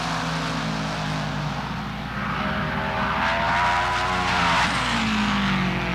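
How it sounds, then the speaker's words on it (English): Top Fuel dragsters from the 1976 NHRA Gatornationals at Gainesville Raceway race in round one, a loud, continuous engine roar with rising and falling pitch that fills the whole stretch, with no talk over it. "Peterson and Beck in round number 1, Top Fuel Eliminator"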